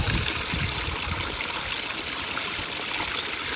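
Water poured from deli cups into a natural-style aquarium, a steady close splashing trickle that runs continuously without pause.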